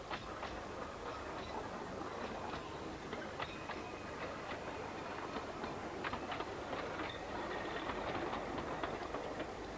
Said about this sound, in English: In May 1982, a special vintage train was run to commemorate the 150th year since the Act of Parliament which permitted the line's construction.